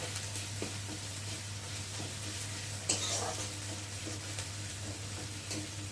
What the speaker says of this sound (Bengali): রসুনটাও পেঁয়াজের সাথে ভাজা ভাজা হয়ে যাবে।